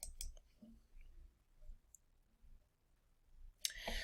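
A computer mouse clicking on a save button, a few faint sharp clicks scattered through quiet room tone, ending in a louder burst of noise near the end.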